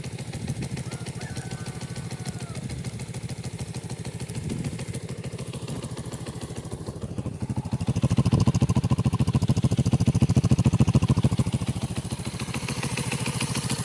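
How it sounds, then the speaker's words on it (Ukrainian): A new 125cc motorcycle engine runs at idle with a rapid, even putter, swelling louder for a few seconds midway before settling back. "Новенький мотор 125."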